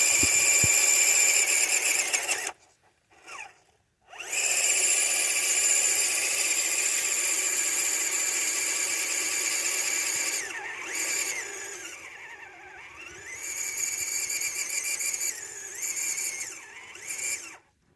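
An RC 4-wheel-drive crawler truck on custom-carved Texas Canyon Trail cheater tires revs up a hill. Its motor whines loudly in long bursts, with brief drops to near silence between them and rising and falling squeals as the throttle changes.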